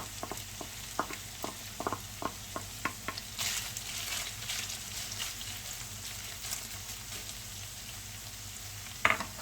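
Onions and minced meat sizzling in a pan for a Turkish bread-stuffing filling, with a steady fry hiss broken by repeated scraping stirs of a utensil, close and moderately loud.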